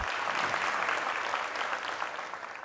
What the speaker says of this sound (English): Let's have a round of applause, guys.